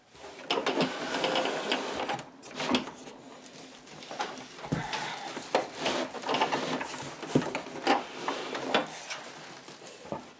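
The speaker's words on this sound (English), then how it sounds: "now we're going to bring it to the sewing machine, and we're going to be sewing this like so." A sewing machine stitches fabric for a simple vintage-style apron, its needle chattering in uneven bursts with short pauses and handling noises between runs, fairly close and moderately loud, with no talk.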